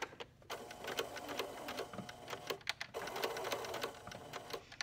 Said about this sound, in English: we're going to sew this hole closed with a zigzag stitch